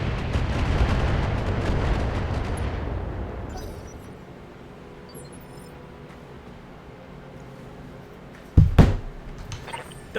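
Long-range missile volleys from a Battletech mech game, a loud rumbling barrage that fades over a few seconds, followed by a quiet stretch and then one sharp, loud impact burst near the end.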